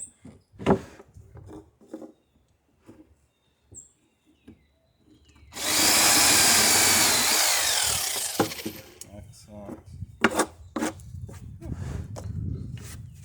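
A power drill bores into a wooden boat centerboard while building a Chamberlain Alpha Dory, in one loud burst of about three seconds, with scattered knocks, footsteps and brief talk before and after.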